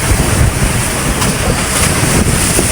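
Big ocean waves surge and wash around a boat at sea in rough weather, a steady loud roar of water mixed with gusting wind buffeting the microphone, with no one speaking.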